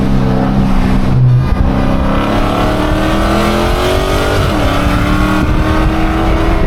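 A Dodge Hellcat engine roars loud and close inside a tunnel, downshifting with a pitch drop and then pulling hard under steady acceleration, the tunnel walls adding a dense echoing drone.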